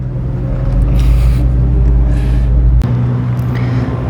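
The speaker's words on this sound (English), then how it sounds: "I was saying it had a really loud exhaust." Mazda MX-5 with a loud exhaust idles and revs at Fuji Speedway, a deep steady rumble throughout, close by with a sudden drop in tone near the end.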